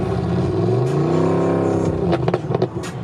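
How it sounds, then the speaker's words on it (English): A 6.2 turbo GMC Denali's engine drones loudly and steadily with sweeping harmonics, then sputters into rough, uneven bursts as its 8-speed transmission fails after a 165 mph run. "looks like the 8-speed just blew up"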